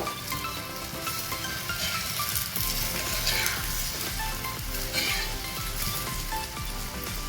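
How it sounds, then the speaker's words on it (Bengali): Paratha frying in oil on a tawa griddle, a steady, rain-like crackling sizzle heard close and fairly faint, with a low background rumble and no talking. "চাটুতে তেল দেওয়া হয়েছে এবং পরোটাটা সেই তেলে ভাজতে দেওয়া হলো"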